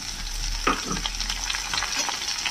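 Bitter gourd sizzles steadily in a frying pan as carrots and peas are stir-fried in, a continuous hiss of hot oil broken by a few scraping stirs, close and alone without voices.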